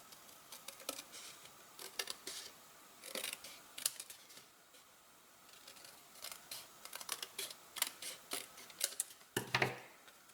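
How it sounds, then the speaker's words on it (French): Crisp scissor snips cutting paper, a run of short irregular clicks and slices close by, with a louder rustle near the end. "Nous allons ensuite pouvoir couper sur ces traits que nous venons de tracer à l'aide de nos ciseaux"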